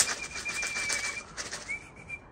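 A racing pigeon arriving at its loft after a race, with soft bird sounds and flutter over a steady whistling tone and outdoor noise, no talk.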